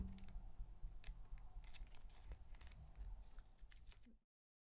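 Steady, close snipping and crunching of scissors cutting paper for a DIY wedding glass decoration, a quick uneven run of small cuts that stops abruptly into silence.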